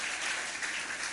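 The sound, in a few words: applause in church congregation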